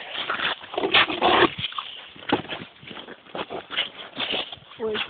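A dog heard outdoors in a moving family outing, with snuffling and whimper-like sounds mixed with scuffing, clattering footsteps and other street noise across the clip; no clear barks, fairly close.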